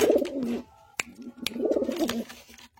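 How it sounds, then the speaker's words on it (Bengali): Pigeons in a loft coo in two rolling, throaty phrases close by, separated by a few sharp clicks and wing or foot taps. "দেখুন কত অ্যাক্টিভ পায়রা"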